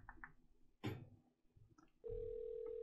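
In the OneShot game, a telephone call plays: a few soft clicks and tones, then a steady electronic ringing or line tone sets in and holds, quiet and clean over a faint low background.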